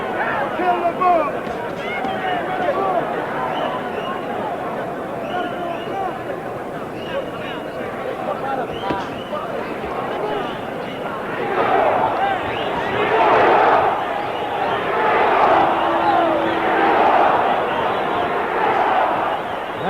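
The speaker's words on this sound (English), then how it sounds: "you hear the crowd picking up the chant for Ringo now" A boxing crowd at the Muhammad Ali versus Oscar Bonavena fight roars and chants for Ringo, a dense murmur that swells louder in the second half beneath a commentator's steady talk.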